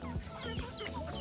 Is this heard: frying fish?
no